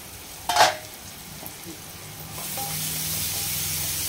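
Onions frying in a pan, a sharp clatter early on, then a hiss that swells into a steady, fairly loud sizzle for the rest of the clip.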